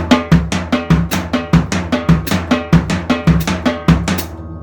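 A drum set plays six-note groupings split between the right and left foot, giving a steady, evenly spaced run of sharp hits with bright ringing tops, close and alone.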